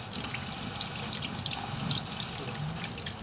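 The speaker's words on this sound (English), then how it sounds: "Now I would like to put it in some cold water." Cold water is poured into a container in a workshop, a steady close rush of liquid with faint splashes and no talk over it.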